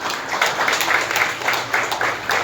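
A crowd claps steadily in a brief burst of applause at a tribute ceremony for a musician, dense and even throughout.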